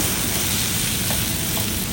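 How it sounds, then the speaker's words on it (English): Steady, loud sizzling of onion and potato frying in a hot skillet for a frittata, a constant hiss with no voices. "and look at this sizzling,"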